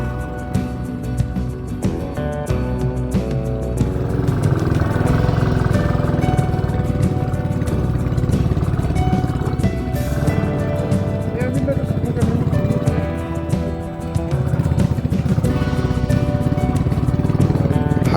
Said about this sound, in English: the bikes were fighting for survival on these inclines, chugging hard to push through the thin air